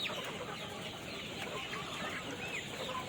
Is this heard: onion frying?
no